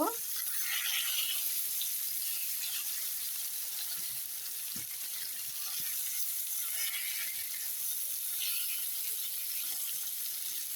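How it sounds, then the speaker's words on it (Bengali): Silver carp pieces fry in hot soybean oil, giving a steady, fine, high sizzling hiss that runs evenly throughout at low volume, with a few faint clinks underneath. "মাছ দিয়ে দিয়েছি। এপাশ ওপাশ লাল লাল করে ভেজে নিব।"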